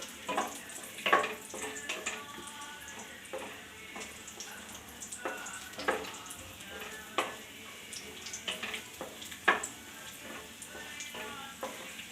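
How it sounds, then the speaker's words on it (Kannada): Cashews and raisins frying in ghee for kesari bath, a steady soft sizzle with scattered louder stirring scrapes and taps throughout. "ನಿಮ್ಗೆ ಎಷ್ಟು ಗೋಡಂಬಿ ಬೇಕು ಅಷ್ಟು ಗೋಡಂಬಿ, ದ್ರಾಕ್ಷಿ ಹಾಕ್ಕೊಳ್ಳಿ. ಹಾಕ್ಕೊಂಡು ಸ್ವಲ್ಪ ಫ್ರೈ ಮಾಡ್ಕೊಳ್ಳಿ."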